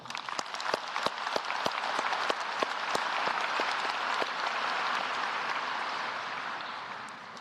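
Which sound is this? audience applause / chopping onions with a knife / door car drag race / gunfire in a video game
audience applause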